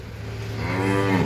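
A buffalo moos close by in one drawn-out, rising low call that swells louder toward its end, heard alone without talk.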